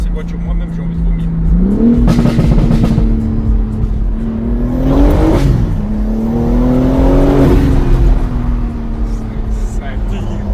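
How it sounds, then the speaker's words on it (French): A car accelerating hard with turbo boost, its engine note climbing and surging in repeated pulls over ten seconds, loud and close from inside the cabin, with voices talking over it. "Tu vois les coups de turbo qu'elle me met?"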